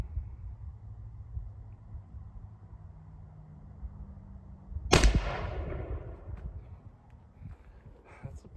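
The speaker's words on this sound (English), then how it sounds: "this will be the last shot for the 45 grain grouping." A single loud gunshot from an 1847 Harpers Ferry .69 caliber smoothbore musket cracks out around the midpoint, with a sharp report and a decaying echo over quiet outdoor background noise.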